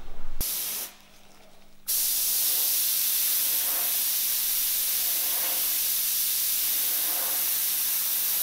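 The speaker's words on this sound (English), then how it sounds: "I can spray the shadow in dark gray." A spray can hisses steadily as dark gray paint goes onto a Trek Madone bike frame for a lettering shadow, with a short burst, a brief pause, then one long continuous spray, close and alone.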